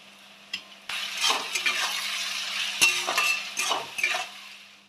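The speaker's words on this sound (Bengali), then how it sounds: "একটু লবণ দিয়ে দেবো এর উপরে তাড়াতাড়ি ভাজা হয়ে যাবে" Salted onions frying in a pan, a close sizzle broken by several sharp spatula scrapes and light clinks of utensil against the pan, with no talk.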